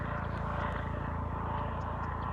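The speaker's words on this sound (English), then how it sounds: "that's a Coast Guard helicopter" A Coast Guard helicopter passes overhead along the coast during mussel foraging, a steady low rotor drone and engine hum filling the whole stretch at fairly loud level with no talking.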